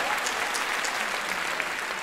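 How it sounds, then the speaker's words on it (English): Applause for a retired teacher and director at a Canada's Capital Cappies gala, a steady wash of many hands clapping from a large audience, even and sustained throughout. "Give him a round of applause"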